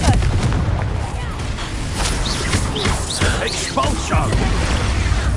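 Explosive blasts from the Confringo spell in the video game Hogwarts Legacy boom and crackle through a dense, loud game soundscape, with other combat effects layered over one another.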